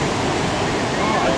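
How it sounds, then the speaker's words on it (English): Floodwater raging over the McCallum Dam in Newmarket, New Hampshire, during a major flood: a constant, heavy roar of rushing water that holds steady and close without pause. "there's the water raging over the McCallum Dam"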